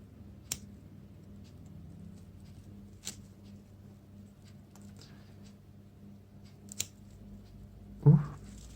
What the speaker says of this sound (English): Okay, so I cut it off.